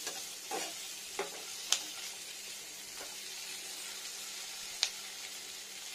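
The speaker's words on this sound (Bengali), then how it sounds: "ফ্রাই হবে।" Chopped onion, ginger and garlic fry in a pan with a faint, steady sizzle, broken by a few soft clicks of a spoon stirring against the pan.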